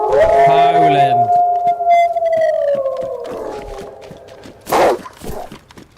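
A wolf in DayZ's Chernarus map lets out a long, sustained howl that slowly glides downward and fades over about three seconds, followed by a few soft thuds and a brief burst of noise.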